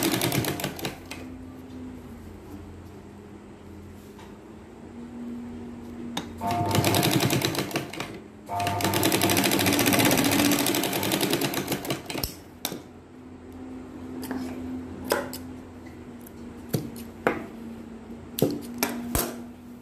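A sewing machine stitches the shoulder seams joining the front and back of a lined katori blouse, its motor whirring in bursts of varying length with short pauses between runs and clicks of handling, no talk over it.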